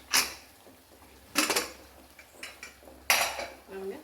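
Pressure cooker lid lifted off after cooking chicken soup, giving several loud metallic clanks and clatters of pot and lid, spaced apart with quieter handling between.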